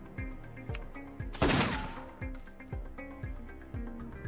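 Rapid, evenly spaced gunshots from a firearm in the PS2 video game Don 2: The Game, a steady automatic rhythm with one louder, sharper blast early on and a faint metallic ring trailing off.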